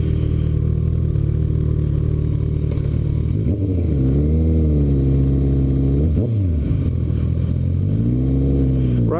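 A 2016 Kawasaki ZX14 motorcycle engine drones loud and close while riding, rising and falling through several revving swells and gear changes over a steady rumble.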